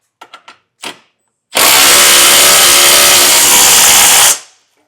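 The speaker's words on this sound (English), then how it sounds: "Now we can take that 3/4 inch socket and tighten down all of our hardware" A few short clicks and a brief whir, then a power tool running steadily for about three seconds as it drives a 3/4 inch socket to tighten trailer hitch hardware, loud and close before spinning down.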